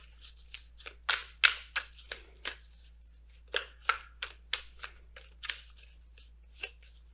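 Oracle cards being shuffled for a tarot reading, a quiet, close run of crisp riffling flicks and slaps in irregular bursts with short pauses, no voices.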